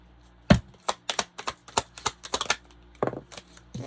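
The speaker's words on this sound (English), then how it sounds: "You heard the card fall out the damn deck. You heard me shuffle." A tarot card deck shuffled by hand, a quick series of sharp papery slaps and riffles, close and fairly quiet, with no talking.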